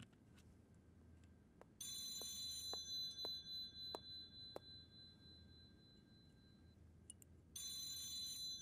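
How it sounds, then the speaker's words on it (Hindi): A telephone rings in bursts of an electronic trill, two bursts plus a third starting at the end, with sharp tones in between, fairly clear against a quiet indoor background. "किसका फोन बज रहा है?"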